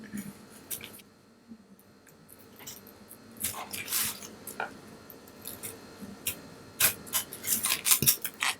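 A craft knife cuts around the backing of a cheeseburger-themed resin coaster. Close, crisp scraping and slicing strokes come in irregular bursts, growing busier and louder toward the end, with quiet stretches between.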